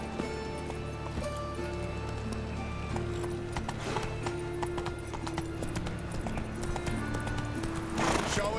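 The horse Roach in The Witcher III trots with steady, rhythmic hoof clops under background game music, and a whinny rises near the end.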